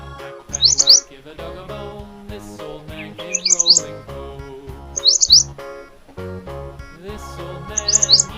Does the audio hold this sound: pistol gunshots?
no